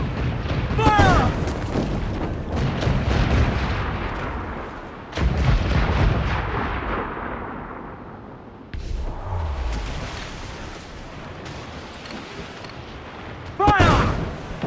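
Ship cannons in Assassin's Creed IV Black Flag boom in several heavy volleys, with loud blasts near the start, around five seconds and again near the end, over rumbling battle noise and shouted voices.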